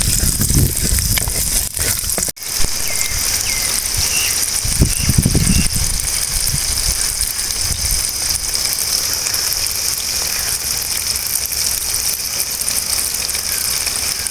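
Peeled small shallots dropped into hot oil in a pan sizzle and crackle steadily and fairly loudly, with a few louder bursts and clatter early on, then an even hiss of frying to the end.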